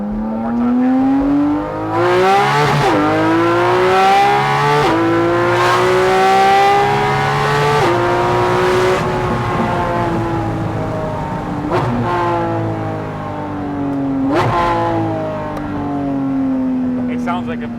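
Porsche 718 Cayman GT4 RS exhaust revving hard on a dyno, loud and close, with repeated rising and falling engine sweeps and sharp blips between pulls; people talk faintly underneath.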